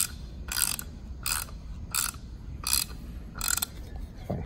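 A ratchet wrench fitted with a Gearwrench Bolt Biter extractor turns a stripped bolt, giving six evenly spaced bursts of quick clicking roughly every seventh of a second apart, close and clear over a low background hum.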